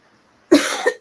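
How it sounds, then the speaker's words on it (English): A person coughs: two or three close, loud, harsh bursts, a longer one and then a quick short one, after half a second of near silence. "y'all know I cough all the time with you"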